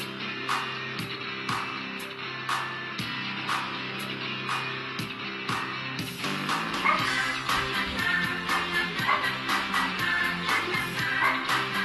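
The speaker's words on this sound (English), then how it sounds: "They are barking for no reason at all." Chiptune-style dog barks from a Game Gear RPG repeat in quick rhythmic bursts over looping game music, the yips sharp and evenly spaced, with no talking.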